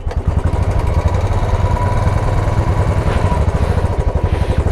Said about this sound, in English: So let's start the bike